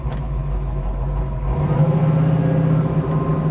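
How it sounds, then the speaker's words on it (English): A 1970 Ford Mustang Mach 1 engine idles with a deep rumble, then revs up into a louder, steady growl, close by with no talking. "I love the way this car sounds."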